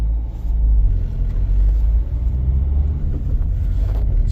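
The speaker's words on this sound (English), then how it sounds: "Now let's accelerate again, but this time to look at the data." Dacia Duster 1.5 engine pulling hard in first gear, a loud, steady low rumble heard from inside the car with no voices over it.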